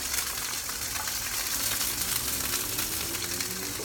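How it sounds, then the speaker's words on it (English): Beef steaks fry in a hot pan for bistec encebollado, giving a loud, steady, close sizzle with a constant crackling hiss throughout and no talking. "So you hear how they're sizzling."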